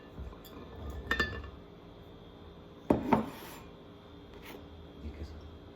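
Scattered kitchen clatter as ingredients go into a blender: two distinct clinks of glass and utensils against the container, with soft rubbing and quieter handling sounds in between.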